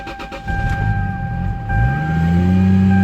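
A 600 hp Lexus GS300 engine cranks briefly, then catches and settles into a steady, rising idle hum, close and fairly loud.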